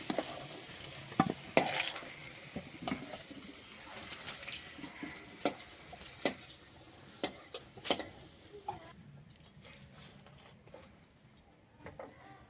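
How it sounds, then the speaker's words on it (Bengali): Potatoes frying in oil while a spatula stirs and scrapes through them, a close sizzle broken by repeated sharp metallic clicks and scrapes at an uneven pace, with no talking. "তার জন্য খুন্তি দিয়ে মাখিয়ে নিচ্ছি আলুটা ভেজে নিয়েছি"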